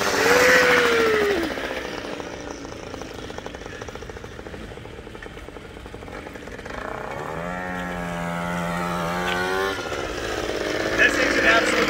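A two-stroke moped rides past, its buzzing engine revving high and raspy, fading a little in the middle and then rising again as it passes close by, under a steady rumble of background noise.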